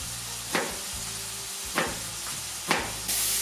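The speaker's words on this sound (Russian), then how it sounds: "Жарим грибы минут 5." Mushrooms fry in a pan with a steady close sizzle, punctuated by three brief scraping stirs spaced about a second apart, and nobody talking.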